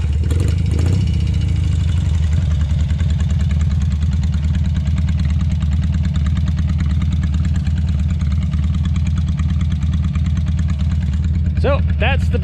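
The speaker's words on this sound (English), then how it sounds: "I'm also going to demonstrate it has factory electric start," A BMW R50/5 airhead motorcycle fires up on its factory electric starter and settles into a steady, loud, close-up idle with an even low throb, a brief rev near the end.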